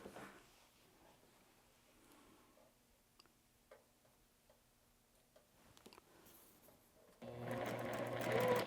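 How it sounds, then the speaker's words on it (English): A sewing machine runs in a quick, loud burst of stitching near the end, joining light and dark quilt fabric for quarter-square triangles, after a quieter stretch of faint ticks and handling. "So I'm always going to sew the light to the dark"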